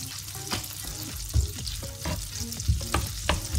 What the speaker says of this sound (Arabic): درت فيها شويه ديال الزبده، وهي اللي غادي ندير فيها الروز حتى يتحمر